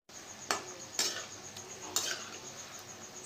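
Atta shakarpare being flipped while deep frying in a pan, with a few sharp metallic clinks of a utensil against the pan over a faint steady sizzle.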